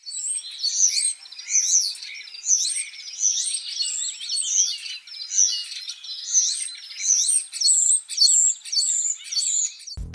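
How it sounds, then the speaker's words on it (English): Common starlings (Sturnus vulgaris) chattering, with repeated bright whistles, clicks and wheezy chirps in a steady run of phrases for about ten seconds, fairly close, no talking. "The common starling, Sturnus vulgaris, is one of those birds that gets dismissed as ordinary."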